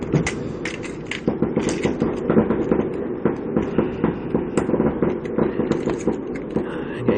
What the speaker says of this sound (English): You can hear all the fireworks now going on.